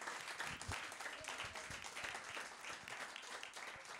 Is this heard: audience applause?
yes